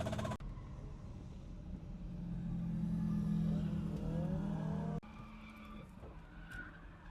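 A drift car engine revs hard with the throttle held to the floor, a loud sustained climbing drone that drops off abruptly when the throttle is released, with tyre noise nearby.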